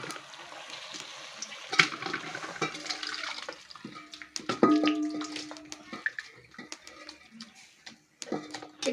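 Chicken gravy poured from a pan into a biryani cooking pot, giving a wet, sloshing, splashing pour with clinks of metal utensils against the vessel, close and moderately loud, no talk.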